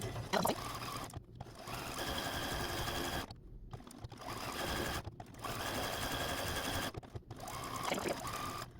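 A sewing machine stitches quilt blocks in steady bursts of rapid stitching, pausing briefly between runs, close and clear with no voices.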